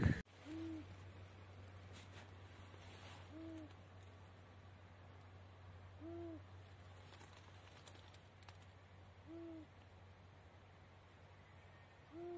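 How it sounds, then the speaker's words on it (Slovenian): An owl hooting outdoors, soft low double hoots repeating every few seconds at a steady pace, fairly distant over a faint constant hum. "Take sove pa še nisem slišala."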